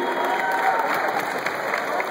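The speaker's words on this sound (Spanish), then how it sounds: "Un fuerte aplauso para Iron Patrio" A crowd claps steadily and loudly throughout, dense applause with no pauses.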